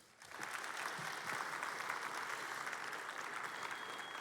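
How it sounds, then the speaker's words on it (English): Audience applause in a church gathering, quiet and distant, rising quickly into steady even clapping that continues to the end. "Give him a round of applause."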